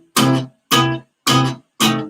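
Four loud, evenly spaced strummed guitar chords ring through an amp, each one struck hard and cut off short, deliberately played the wrong way.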